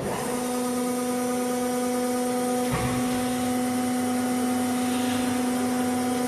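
A Pearson CNC hydraulic guillotine, a 4000 mm by 10 mm sheet-metal shear, runs with a steady loud mechanical drone and strong tonal hum, with a brief clunk partway through as it starts up.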